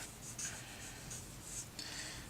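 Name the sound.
writing by hand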